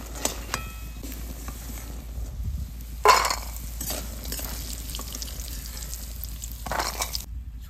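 Dal bori, lentil dumplings, fry in oil until reddish, a steady close sizzle broken by occasional scraping and stirring clatter of a utensil in the pan, with no one speaking.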